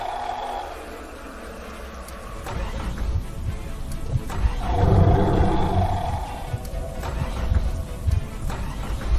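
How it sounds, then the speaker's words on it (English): A car engine in an animated horror scene roars to life and revs hard under full acceleration, a loud, rough, swelling rumble with brief sharp knocks, heard alone without talk. "the car engine came to life, and Andrew pressed on the accelerator as hard as he could"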